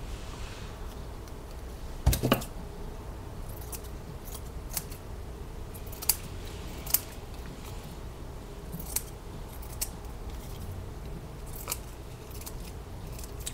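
Scissors snipping a small craft piece for an art project: sparse, quiet, crisp snips and clicks scattered irregularly over a faint room hush, one cluster of sharper cuts early, no talking.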